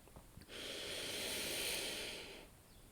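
A slow, deep breath taken during a guided meditation, a soft airy hiss that swells steadily for about two seconds and then fades, heard close and alone in a quiet room.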